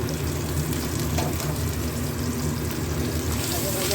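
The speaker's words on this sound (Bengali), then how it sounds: "পেঁয়াজটা ভাজা ভাজা হোক।" Onions with a pinch of salt fry in a pan, giving a dense, even sizzle that stays loud and close for the whole stretch.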